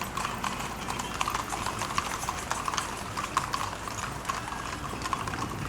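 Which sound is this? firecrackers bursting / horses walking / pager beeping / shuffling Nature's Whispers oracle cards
horses walking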